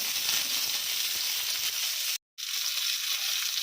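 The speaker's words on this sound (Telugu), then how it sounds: "ఆయిల్ వేసుకొని కట్ చేసుకున్నాం కదండి, ఆ దొండకాయలు వేసుకొని వేయించుకుందాం." Chopped ivy gourd (dondakaya) fries in hot oil in a pan, giving a steady, loud, close sizzle that drops out for a split second before continuing.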